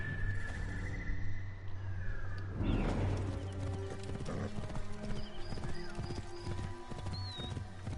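Horse hooves gallop in Assassin's Creed Origins: a fast, steady clip-clop of hoofbeats runs throughout, with a brief whinny and faint game ambience and bird calls underneath.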